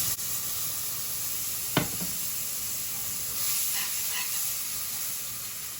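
Liquid trickles slowly into a pan of sizzling gravy for Italian meatballs, a steady close hiss and sizzle with one sharp utensil tap and soft stirring scrapes.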